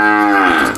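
A single cow at a Jember mini zoo cattle barn, home to giant cattle, lets out one loud, close, sustained moo lasting under a second, with no voices over it.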